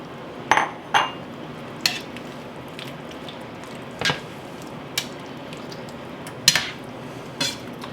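Strips of steak are tossed back into a pan of beef and broccoli stir fry, with scattered metal utensil clanks and scrapes against the pan over a soft, steady sizzle.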